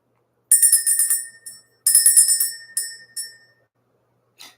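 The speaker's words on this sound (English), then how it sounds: "Let's go ahead and ring the bell." A small handheld bell rung in a quiet room to clear energy: several bright, sustained rings in quick bursts, a pause, then a few more strikes fading out, with one faint final tap.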